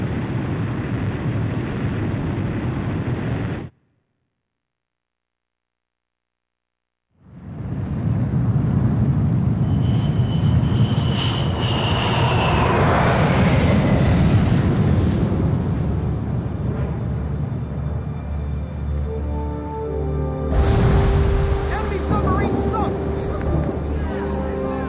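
Aircraft launching off a carrier catapult in the Ace Combat 5 video game, a loud sustained jet roar that swells after a brief silence, with rushing wind noise and a rising whine, ending in clattering bursts.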